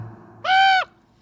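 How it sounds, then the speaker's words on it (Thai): A crow gives one loud, clear caw as a single drawn-out nasal call lasting under half a second, standing out against a quiet, low background. "เสียงอีกาก็ร้องดังขึ้น"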